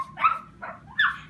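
A person imitates a little husky dog woofing, giving three short, yippy barking sounds spaced about half a second apart, fairly close and clear with no other talk.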